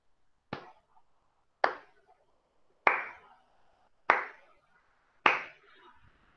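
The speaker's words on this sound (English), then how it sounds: "Five claps." Children in a nursery class clap five times in unison, each crisp burst spaced about a second apart and ringing briefly in the room, close and alone with no speech.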